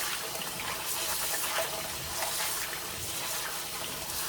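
Hot water pours into a crock pot of beans, a soft, continuous splashing fill heard close by at low volume, without speech.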